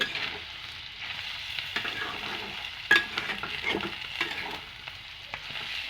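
Onion petals fry for chicken jhura with a low, continuous sizzle. Intermittent stirring scrapes and light clinks come through, and a sharper knock sounds near the middle.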